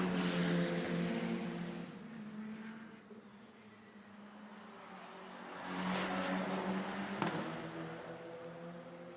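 The number 98 Mercedes GT2 race car on a flying qualifying lap at Hockenheim, its engine a steady, fairly loud drone that eases off briefly and then swells again as it passes, with no talk.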